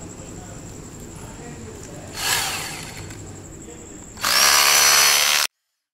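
A power drill drives screws into a stainless steel metal cot, giving two whirring bursts: a brief softer one, then a louder, longer run that stops abruptly. A steady background hum runs underneath throughout.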